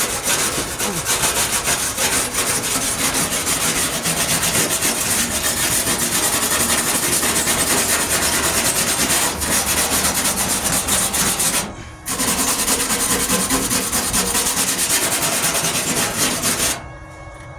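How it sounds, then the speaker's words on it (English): A wire brush scrubs welding flux slag off steel during a wheel arch repair on a 1998 Ford Ranger, a steady, loud, harsh scraping that runs almost continuously, broken only by one short pause. "Wire brushing this flux, this slag away is important."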